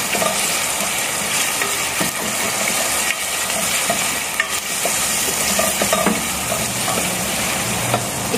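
Onions frying for a crab dish: a steady loud sizzle with stirring and the occasional scrape of a utensil in the pan, close up and continuous.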